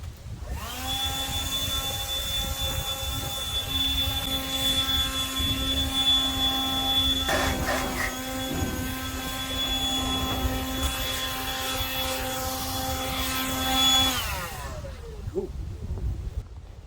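An air blower blasting air out of a part gives a loud, steady, high-pitched whine that holds for about thirteen seconds before cutting off. No one speaks.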